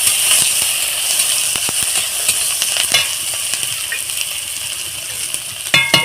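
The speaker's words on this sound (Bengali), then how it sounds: "এই কারি পাত্তা এখানে কিছুটা দিয়ে দিলাম দিয়ে আমি হালকা হাতে ভেজে নেব" Curry leaves fry lightly in a pan, giving a bright, steady sizzle with scattered crackles and pops and a few clinks of a stirring utensil near the end.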